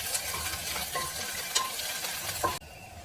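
Green chillies and curry leaves fry in oil in a pan while being stirred. A constant close sizzle runs under intermittent spoon scrapes and clinks, and the sound stops abruptly near the end.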